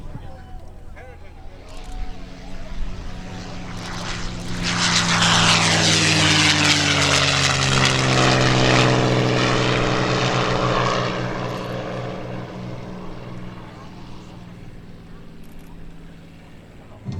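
A World War II P-51D Mustang with a Rolls-Royce Merlin engine approaches and roars past overhead at an airshow, its drone swelling loud in the middle before fading away, with a pitch shift as it passes.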